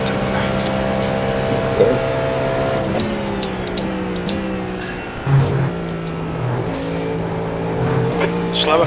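Race car engines at Daytona in the iRacing sim whine steadily and shift pitch as gears change, with other cars faintly passing, while a voice talks over the engine noise.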